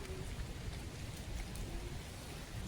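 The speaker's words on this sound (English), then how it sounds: "I'm really impressed with the way I'm able to handle the weather and dodge these raindrops." Steady rain falls across an outdoor sunken garden park, a dense even hiss of drops at low volume with no voices.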